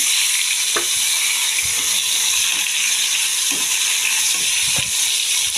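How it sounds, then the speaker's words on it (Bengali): Nigella seeds sputter in hot mustard oil left over from frying hilsa fish, a loud steady sizzle with occasional stirring scrapes and pops and no talking. "এবার সেই তেলেই আমি দিয়ে দিচ্ছি কালো জিরে ফোড়ন।"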